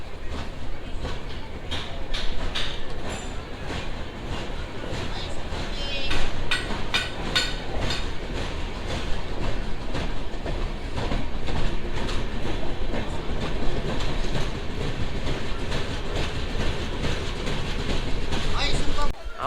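A passenger train rumbles along the tracks from Balasore toward Soro station, with a continuous roar and rhythmic clatter of wheels, loud and close, as though heard from inside a carriage.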